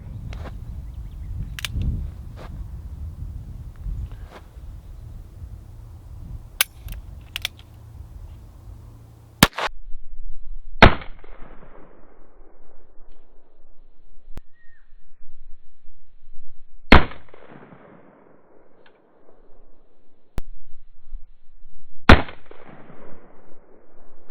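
.22 LR revolver shots firing Aguila and CCI Stinger rounds crack out as sharp, loud single reports spaced several seconds apart, each followed by a short decaying echo outdoors, with rustling and faint handling noise between.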